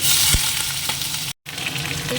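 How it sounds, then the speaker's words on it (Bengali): Chicken frying in a pan before going into biryani, a loud close continuous sizzle with a stir or two and a brief cut of silence partway through, no voices. "চিকেনটা আগে একটু হালকা ফ্রাই করে নেব"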